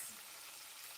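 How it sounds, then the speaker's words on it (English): Shrimp lumpia, Filipino rolls, fry in a pan with a steady close crackling sizzle of hot oil for a brief moment, no voices. "actual frying happening in this kitchen. Give it a flip."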